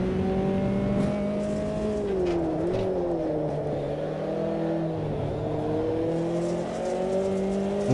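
Race car engine in Automobilista 2 during an F-Inter championship race, droning steadily at close range with pitch dipping and climbing as the throttle is lifted and reapplied while running in a slipstream.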